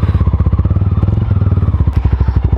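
A Mahindra Mojo motorcycle engine runs loud and close with a rapid, steady thumping idle pulse and some mechanical clatter, heard on its own.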